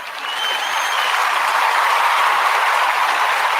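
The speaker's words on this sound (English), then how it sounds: "I'm going to give them a clap again." An audience gives a steady round of applause at the close of a discussion program, with dense, loud clapping that rises quickly and holds evenly throughout.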